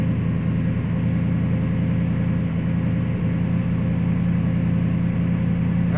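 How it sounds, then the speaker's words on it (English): A 1978 Jeep Wagoneer idles through a Paradox muffler, a steady, loud, low rumbling exhaust drone holding even throughout with no voices. "That's that Paradox muffler."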